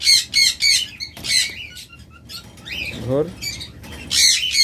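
Lovebirds and cockatiels in a breeding setup make loud, close, repeated squawks and sharp chirps in quick bursts, with a brief spoken word among the calls.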